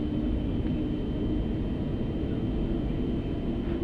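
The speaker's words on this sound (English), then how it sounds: "A380 is a very large aircraft with around 80 meters of span, so it takes a lot of caution taxiing." An Airbus A380 taxiing, heard as a steady, continuous low engine rumble with a faint whine above it, even and unbroken throughout.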